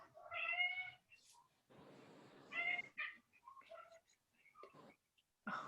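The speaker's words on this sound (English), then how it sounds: "Here comes my kitty." A pet cat meows several times at close range, soft, drawn-out mews separated by quiet gaps, with a hushed rustle and a faint whisper-like sound in between.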